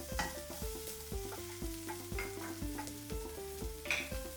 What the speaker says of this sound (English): Fry it just for a few seconds.